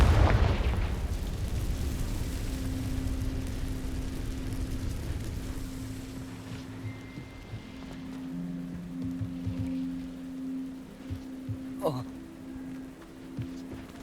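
A Confringo fire spell blast in Hogwarts Legacy booms out loudly at the start, then a rumbling crackle and lingering tones fade over many seconds, with a few later sharp pops.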